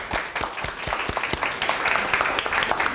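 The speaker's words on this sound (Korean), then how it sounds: "자, 큰 박수 주세요" Audience applause at a Korean comedy talk show, a burst of dense clapping from a studio crowd, loud and steady, with a few individual claps standing out early and the sound continuing without pause.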